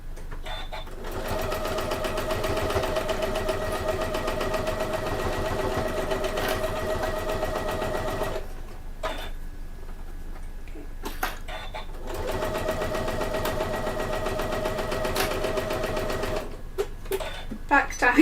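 A sewing machine runs steadily at normal stitch length while making a bag, with a brief pause midway before stitching resumes, loud and close.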